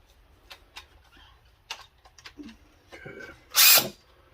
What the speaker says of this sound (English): Gotta open up this 1/2 inch chuck all the way